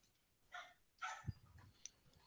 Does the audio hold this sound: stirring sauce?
no